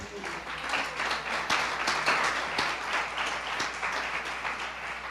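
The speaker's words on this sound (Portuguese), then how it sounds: "Dê uma salva de palmas ao Senhor." A church congregation claps together during an evening communion service, a steady, fairly soft round of applause from many hands filling the room, with some indistinct voices underneath.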